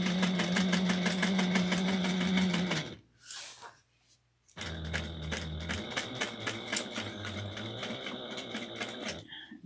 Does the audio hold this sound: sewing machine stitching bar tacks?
yes